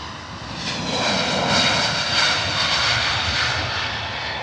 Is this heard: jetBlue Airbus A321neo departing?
yes